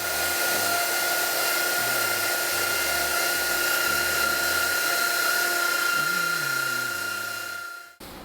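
A router cuts a guitar body along a template, a steady high whine running continuously and fairly close before cutting off abruptly near the end.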